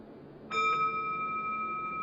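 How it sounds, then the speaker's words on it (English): A single bell is struck once, ringing out with a bright clear tone that sustains and slowly fades in a quiet room. "All right, I'm gonna ring the bell."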